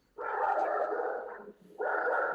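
Nearby dogs give two drawn-out, loud barking bursts, the second starting after a brief pause, with nothing else beneath them.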